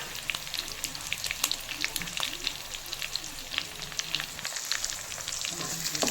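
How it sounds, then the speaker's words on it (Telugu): Dried red chillies frying in hot oil for a puri curry, a steady close crackling sizzle with dense pops and occasional stirring throughout. "ఇందులో కొద్దిగా ఎండుమిరపకాయలు వేసుకోవాలి."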